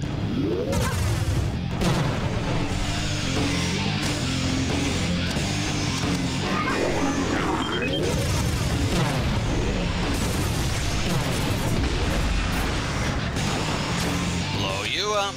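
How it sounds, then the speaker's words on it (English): Bombs going off in the video game Iji, a busy run of booming blasts and crashes repeating across the whole stretch, loud and dense with game noise throughout. "Bombs!"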